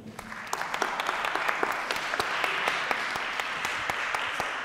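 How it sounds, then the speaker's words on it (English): An audience at a TEDx event applauds, a dense wash of many hands clapping with sharp individual claps standing out, steady and moderately distant. "So please give me a round of applause"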